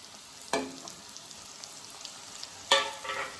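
Onion and tomato frying in a pan, a steady close sizzle with two sharper bursts of spattering as the pieces are stirred.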